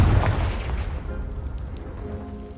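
A fantasy spell blast in Hogwarts Legacy bursts against a pile of blocking debris, giving one heavy boom at the start that rolls off into a fading rumble.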